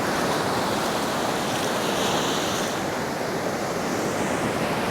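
Waves wash steadily onto a sandy beach in Benidorm, a continuous loud surf roar with some wind noise on the microphone and no voices.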